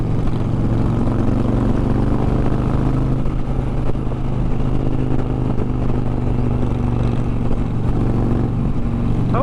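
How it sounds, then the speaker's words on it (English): Engine and exhaust drone of a Dodge Challenger, heard muffled through a helmet while riding, a steady loud low rumble with harmonic bands that holds evenly the whole time, with no talking. "I hope you can hear the exhaust a little bit through the helmet"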